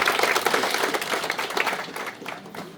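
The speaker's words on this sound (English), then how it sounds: "Can we give a round of applause to our director?" A crowd at a school classroom inauguration claps in a short burst of applause that fades toward the end.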